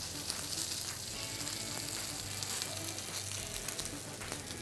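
Beef steak sizzles steadily in a hot pan, a loud, continuous crackling fry that holds even throughout with no talking.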